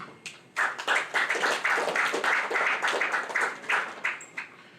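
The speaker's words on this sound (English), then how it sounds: "deserves a round of applause" Audience applause at a book launch dinner, given in support of a food bank project. A short pause is followed by dense, close hand clapping that holds steady for about four seconds and then thins out near the end.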